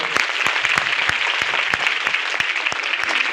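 Audience clapping at a Christmas church service with a Hindi-speaking congregation; dense, steady applause from many hands, with sharp individual claps standing out throughout, close and fairly loud.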